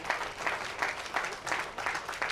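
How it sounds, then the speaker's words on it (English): Fairly faint, pulsing applause from a bowling event crowd greeting the 2019 Team USA women's team at the Amateur Stepladder Finals, with clapping that swells in rhythmic waves. "a big round of applause for your 2019 Team USA Lady Women's Team"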